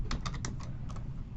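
Quick taps on a computer keyboard, about eight crisp clicks in an uneven burst over a soft background hum, with no voices.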